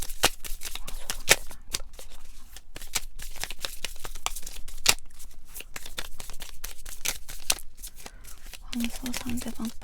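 Tarot cards are shuffled before a reading, a run of quick crisp riffling snaps and soft slaps repeating irregularly and close, with a brief voice near the end.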